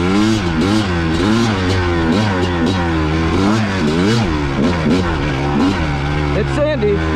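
A 2-stroke Kawasaki KX250 dirt bike ridden along the sandy Back Bone Trail at Hungry Valley, Gorman, its close, loud engine buzzing with rapid rising and falling revs throughout, wind and rider noise underneath.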